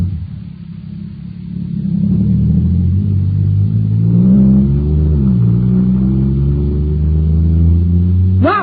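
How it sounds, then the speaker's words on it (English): Radio drama sound effect of a supercharged jet cycle engine, a low droning roar that swells and revs with shifting pitch for several seconds, loud and steady, no voices. "Wow, this jet cycle is supercharged now."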